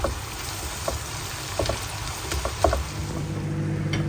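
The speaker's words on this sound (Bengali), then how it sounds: "বেগুন আর ইলিশ মাছের জন্য পেঁয়াজ আর কাঁচামরিচ ভাজতেছি" Onion and green chillies sizzle in a pan, frying for hilsa fish and eggplant, with a steady close hiss and occasional light stirring clicks, no speech.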